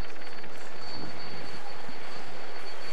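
A helicopter films the Paris-Roubaix cycling race from above, its steady broadband rotor and engine roar continuous and fairly loud throughout, with no talk.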